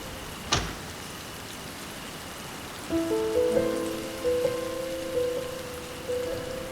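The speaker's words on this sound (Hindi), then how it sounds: "बारिश दोबारा से शुरू हो गई है" Rain falls steadily at night around a car parked in a parking area, a constant wash of patter with one sharp click near the start and sustained tones entering partway through.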